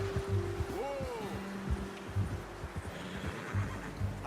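A horse in Red Dead Redemption 2 whinnies once with a rising then falling cry, heard clearly among hoof clip-clops and soft background ambience.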